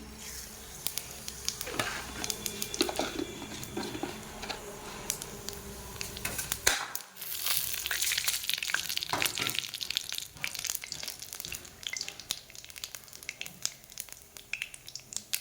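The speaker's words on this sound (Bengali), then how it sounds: "তেলটা গরম হয়ে গেছে। এই দেখো এই তরকারিতে দেবো আমি কালো জিরা আর একটু জিরা ফোড়ন।" Nigella and cumin seeds sizzling in hot oil in a pan, a crackling, spattering sizzle with irregular pops and stirring clatter, close and fairly quiet, no talking.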